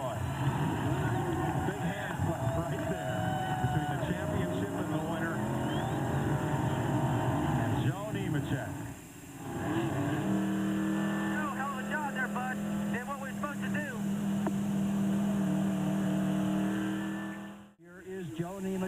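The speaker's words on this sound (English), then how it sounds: "Start-finish line is going to make the Polish victory lap in honor of his brother" A race car engine drones and revs on a victory lap at Homestead after the 1997 Jiffy Lube Miami 300, heard under continuous excited commentary and crowd noise, with the engine note shifting as the car moves.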